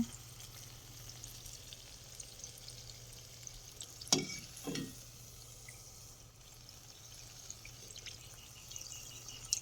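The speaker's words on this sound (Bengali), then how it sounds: "এইটা ভাজা হয়ে গেলে একসাথে অনেকগুলো করে তুলব" Palm fruit fritters (taler bora) frying in hot oil, a steady low sizzle throughout with a brief louder splash or stir near the middle, no talking.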